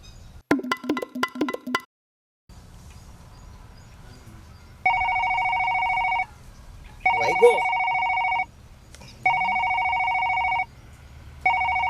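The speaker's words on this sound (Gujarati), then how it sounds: "મારે એક અગત્યનો ફોન આવે છે હું જરાક વાત કરી લઉં" A telephone rings with an incoming call: a short burst of electronic tones, then four steady, evenly spaced ring pulses, loud and near over quiet room noise.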